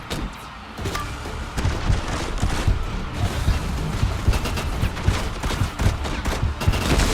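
Sustained gunfire in a mobile shooter game, dense overlapping bursts and booming shots running loud and continuous for the whole stretch with no voices.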